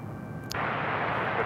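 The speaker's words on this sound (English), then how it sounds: "It's Aeromexico taking off to Mexico City on the 737 MAX 8" An Aeromexico Boeing 737 MAX 8 takes off at San Francisco airport, bound for Mexico City. A steady, loud broadband jet roar swells abruptly about a third of the way in and holds strongly to the end.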